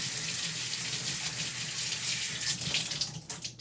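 Tap water running into a sink over an inked chalk-art stencil, a steady close gushing hiss that thins and breaks up near the end, with no talk.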